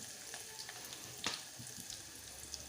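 Mustard seeds, cumin, crushed garlic and finely chopped onion fry in oil for a Marathi-style ash gourd curry, a soft, low sizzle with a few faint stirring clicks and one sharper scrape midway.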